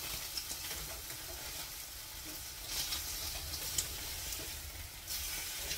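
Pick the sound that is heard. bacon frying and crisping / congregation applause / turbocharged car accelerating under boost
bacon frying and crisping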